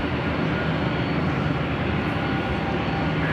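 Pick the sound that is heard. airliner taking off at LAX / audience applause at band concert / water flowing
airliner taking off at LAX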